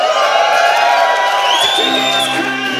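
A conference audience at Railsberry 2012 cheers and whoops loudly, a dense wall of crowd noise with a rising whistle-like whoop through the middle and shouts layered throughout.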